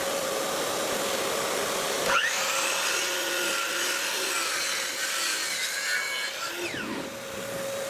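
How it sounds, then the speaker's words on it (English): A miter saw cuts through a barn wood board, a continuous loud motor whine with rough cutting noise that rises sharply partway in and winds down toward the end, heard alone. "I'm just going to take this back to the miter saw and cut it again"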